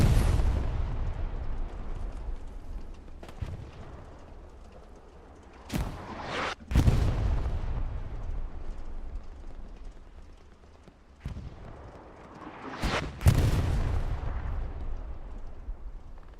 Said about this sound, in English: it seemed like the artillery was just constantly landing between both teams